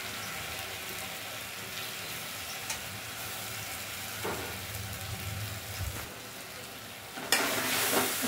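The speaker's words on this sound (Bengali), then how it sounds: "এটাও মা আদা রসুন আর টমেটো, আদা রসুন কাঁচা লঙ্কা পেঁয়াজের যে পেস্টটা ছিল সেটার সাথে টমেটোর সাথে এটাও মা কষিয়ে নেবে" Pointed gourd seed paste fries with tomato and ginger-garlic paste in a pan, a steady close sizzle with scraping stirs throughout and a louder hiss near the end, no talking.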